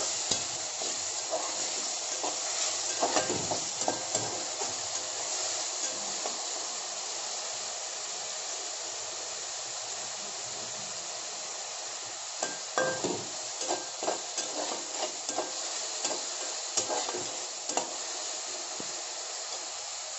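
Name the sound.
frying tomatoes with onions for capsicum curry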